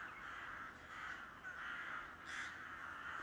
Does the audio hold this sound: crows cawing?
yes